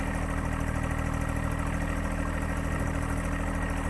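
A tractor engine idles steadily close by, a constant low, chugging rumble with no talking.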